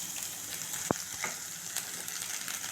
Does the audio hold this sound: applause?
no